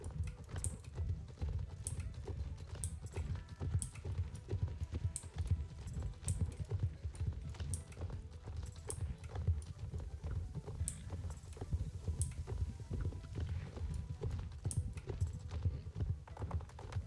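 Horse hooves clip-clop steadily in the video game Star Stable Online as the horse is ridden along, an even rhythmic trot with soft clicks running for the whole stretch.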